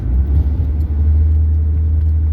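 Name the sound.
1997 Saturn SL1 car engine accelerating uphill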